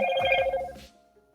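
A phone ringtone plays a bright, sustained electronic chime with a low undertone, loud and close, then cuts off abruptly, leaving near silence.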